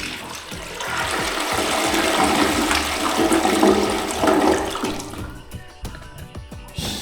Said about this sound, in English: Who says you can't have a flushing toilet in the middle of the jungle?